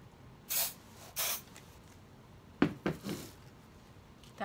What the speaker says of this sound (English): Oh, look at, I accidentally sprayed my canvas.